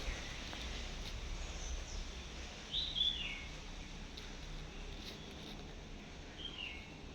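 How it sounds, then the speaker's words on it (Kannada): Birds call around a quiet hillside temple shrine, a few faint, sparse chirps and whistles coming and going over a soft, still background with no other noise. "ಬರೀ ಪಕ್ಷಿಗಳ ಶಬ್ದನೇ ಜಾಸ್ತಿ ಕೇಳೋದು."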